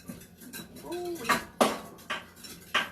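Spoon stirring lemon curd in a bowl, several sharp clinks of metal against the dish at irregular intervals, close and clear, with a brief murmur of voice beneath.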